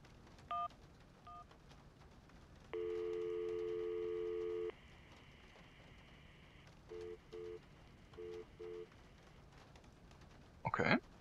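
A phone in the video game Syberia dials a call: a few short dial tones, a sustained dial tone lasting about two seconds, then a rhythmic series of quick keypad beeps, clear and close over quiet background.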